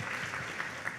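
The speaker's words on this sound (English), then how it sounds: "Okay, giving a clap." An audience in a talk on careers in design gives a brief, fairly faint round of clapping, steady and close-packed throughout the short moment.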